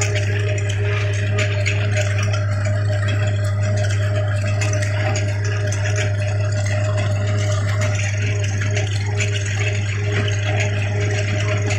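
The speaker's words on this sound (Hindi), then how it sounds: "कितनी दूर दूर तक की मिट्टी को फेंक रही है।" A tractor-mounted trencher with a six-cylinder engine digging and throwing soil, heard as a steady, loud engine drone with a strong low hum and continuous gritty churning, unbroken throughout.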